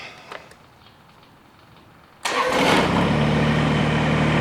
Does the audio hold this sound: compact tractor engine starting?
yes